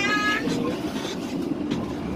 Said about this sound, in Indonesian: ada kedatangan kereta api Dharma Wangsa Express